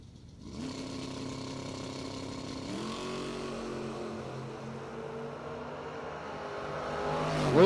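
Fox body drag race car at a bracket race, its engine droning steadily at a distance with pitch shifts as it builds, rising to a louder surge near the end.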